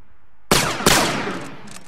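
Two sharp rifle volleys from a close order rifle drill squad, the cracks landing about a third of a second apart, loud and near, each trailing into a ringing decay.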